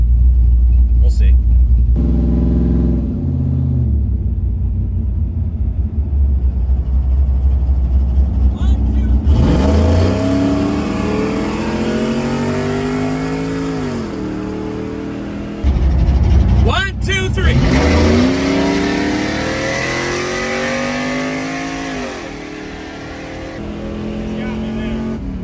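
An LS-swapped OBS Chevy truck races a Ford Lightning from a roll, both engines droning low, then surging loud with rising revs through repeated gear changes. Voices speak briefly over the roar.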